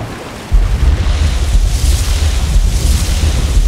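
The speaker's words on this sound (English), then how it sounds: "You hear that sound? That's sprinting whilst underwater." A loud, sustained rumbling roar like muffled explosions, caused by sprinting underwater in the modded Fallout 3 video game, kicking in abruptly after a brief quieter moment and continuing as a dense low boom-like wash.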